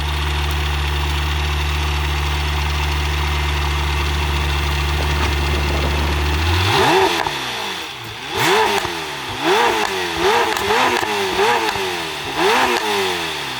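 A Lamborghini Temerario idling with a steady low drone, then revving several times in quick succession, each rev rising and falling sharply, loud and close with no talking.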